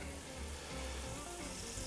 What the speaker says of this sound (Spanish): mientras voy friendo el choricito, también esto también sigue friendo